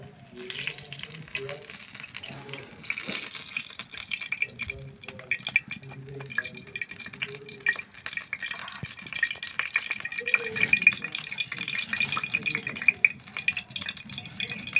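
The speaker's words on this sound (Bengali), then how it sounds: "আমি এবার তেলটা ঢেলে দিচ্ছি" Oil splashes into a hot kadai with a soft hiss and steady sizzle, while a person talks close by over the cooking noise.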